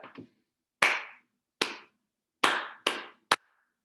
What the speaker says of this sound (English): I'm clapping on each popsicle stick